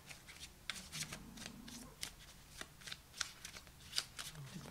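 Close riffle-shuffling of a tarot deck, a series of quick papery card flutters and taps in steady bursts, with faint low speech underneath.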